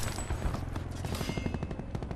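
Rapid automatic gunfire from a Gold Tigershark match in a video game, a fast steady stream of shots close and loud with no talking.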